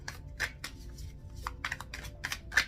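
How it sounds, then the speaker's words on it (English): Tarot cards are shuffled up close, a quiet run of crisp riffling and slapping bursts in an uneven rhythm with no talking. "I'm gonna shuffle."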